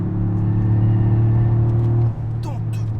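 A Toyota Yaris GR hot hatch engine drones steadily at a loud level while driving, its pitch holding and then easing as the revs drop, with a speaking voice faintly over it.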